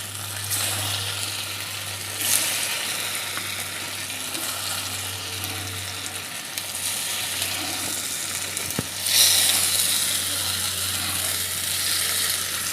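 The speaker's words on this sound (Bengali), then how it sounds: "এখন আমি তেল দিয়ে এই পেঁপের পনিরটাকে ভেজে নেব" Papaya paneer pieces deep frying in hot oil, a steady close sizzle and crackle running throughout, with a couple of brief louder bursts and faint clinks along the way.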